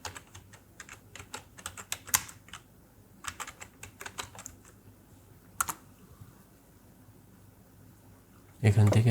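Someone types text on a computer keyboard, with bursts of quick close key clicks separated by pauses and soft speech in the background, followed by a louder thump at the end.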